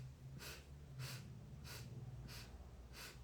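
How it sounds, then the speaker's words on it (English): Quiet, close nasal sniffs during breathwork, about five short sharp inhales spaced roughly evenly, each a brief airy hiss through the nose over soft background. "So it's 7 inhales to make 1 complete inhale."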